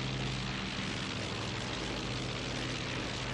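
Propeller aircraft engine in the IL-2 1946 flight game on approach to an aircraft carrier, a loud, steady droning roar with a low hum that holds constant throughout.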